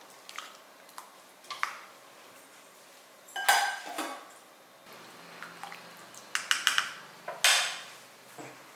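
A pressure cooker lid is handled and closed over coconut milk ghee rice, giving a series of metallic clinks and clatters of pots and utensils, separated by quiet gaps in a close kitchen.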